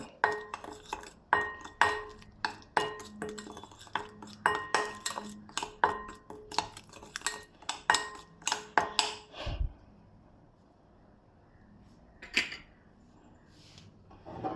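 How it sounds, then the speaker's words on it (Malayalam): A spoon clinks and scrapes against a bowl while stirring a fish fry marinade with tamarind water, a steady run of sharp metallic taps followed by a quieter pause and one more clink. "എല്ലാം കൂടി ഒന്ന് ഇളക്കി കൊടുക്കാം"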